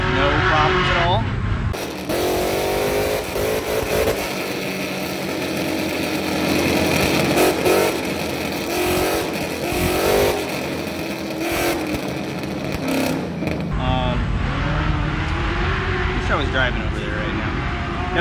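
A modified car's engine revving hard through dyno pulls, a loud sustained mechanical drone that climbs and holds before dropping off, with voices talking briefly at the start and end.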